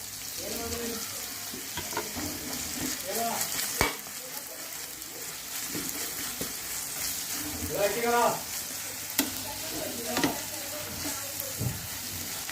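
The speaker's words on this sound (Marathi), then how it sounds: "इथे आपण थोडीशी अद्रक लसूणची पेस्ट घेतलेली आहे आता ती घालून घेणार आहोत" Ginger garlic paste frying in hot oil in a pan for a Marathi paneer curry, a low steady sizzle with stirring scrapes and occasional clinks, fairly quiet, with some faint background voice.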